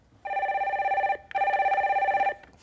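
A telephone rings twice for a call-in radio show, two long electronic trilling bursts separated by a short pause, clear and fairly loud with no voices.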